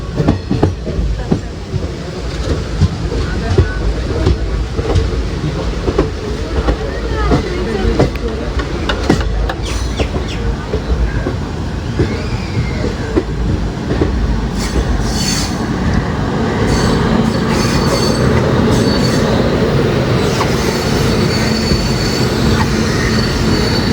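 The Coimbatore Intercity SF Express rolls past close by, its wheels clattering in a continuous rhythmic clickety-clack with occasional metallic squeals, loud and sustained throughout.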